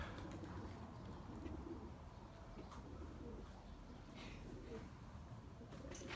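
Lemon pigeons kept as breeding birds coo softly in a loft, the low, steady cooing faint and continuous against a quiet background with no speech.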